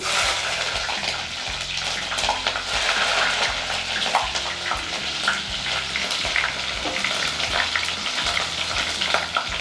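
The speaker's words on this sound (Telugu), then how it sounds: "నూనె మరిగిపోయింది కదమ్మా పచ్చిమిరపకాయలు అయితే వేస్తున్నాను" Green chillies fry in hot oil in a clay pot, a loud, continuous crackling sizzle with dense popping spatters throughout and no talk.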